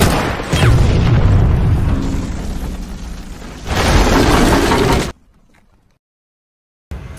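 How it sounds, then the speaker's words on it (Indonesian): A bomb detonates after a sniper's shot in a Soviet-versus-German war film, a loud sustained boom with a second roaring burst before sudden silence, followed by a brief return of sound. "Sherin berhasil membunuh Scout kemudian membawa senapannya untuk digunakan menembak bom sebelum tank-tank Jerman melewati jembatan tersebut."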